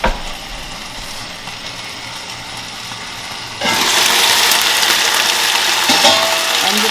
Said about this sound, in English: Now I'm going to add Coca-Cola 1 glass.